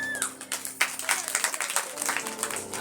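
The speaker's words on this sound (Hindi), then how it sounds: "बजाओ अपने लिए ताली।" Audience at a Shreemad Bhagwat Katha religious gathering in Bhagalpur breaks into brief, scattered applause, clapping rising and falling in quick uneven bursts through the hall.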